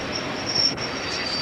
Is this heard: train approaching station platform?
yes